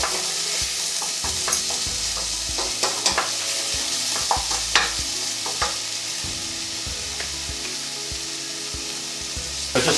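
Vegetables for a vegan cottage pie sauté in a pan, with a steady sizzle and repeated scrapes and knocks of a spoon as they are stirred, close and fairly loud, with no talking.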